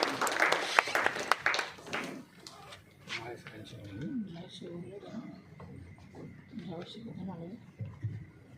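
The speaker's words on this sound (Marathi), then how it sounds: "जोरदार टाळ्या वाजवून मुलांना प्रोत्साहित करायचं आहे" An audience at a school Mahatma Phule Jayanti program claps loudly in a burst of applause to cheer on the children. It fades into a speaker's voice addressing the gathering.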